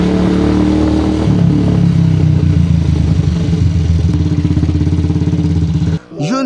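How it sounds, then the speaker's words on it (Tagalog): A motorcycle engine runs close by with a steady, smooth mid-pitched putter and a light clattering edge, holding an even idle throughout before a brief drop and a quick blip at the end. "Ito nga pala yung tunog niya kapag ka umaandar."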